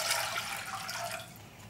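Water pours steadily into a pot for kimchi paste, three cups' worth, giving a continuous close splashing rush with no voices.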